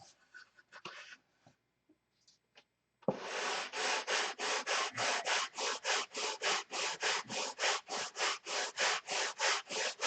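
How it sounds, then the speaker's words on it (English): Steady back-and-forth rasping of sandpaper on a wooden rudder, strokes in an even rhythm, close and fairly loud after a few faint taps. "so we'll sand that crown out."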